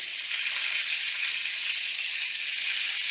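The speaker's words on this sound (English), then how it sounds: "we want to cook the onions until they start to sort of char a bit. This is why we want it on the high heat" Onions frying over high heat in a pan, giving a loud, steady, hissing sizzle close by with no talking.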